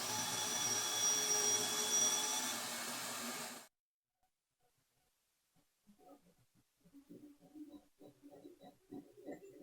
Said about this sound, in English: I'm going to drill an 1/8 inch pilot hole, and she will run the vacuum from over there.